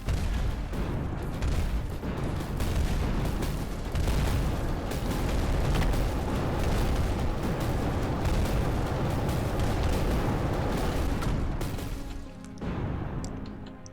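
A sustained barrage of booms and impacts in Mindustry as tanks attack, dense and loud for over ten seconds before easing off near the end.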